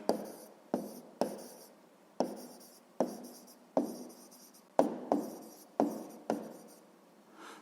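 A pen writes out a maths solution for a sixth-grade area problem, producing about a dozen short scratchy strokes in an uneven rhythm, close and clear, with no talking.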